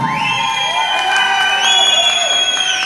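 A crowd cheering and shouting at a circumcision celebration feast, loud sustained whoops and yells from many voices merging into a continuous roar, with rising tones of individual shouts on top.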